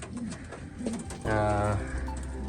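Young racing pigeons coo in a low, throaty burst close to the microphone, with someone talking nearby.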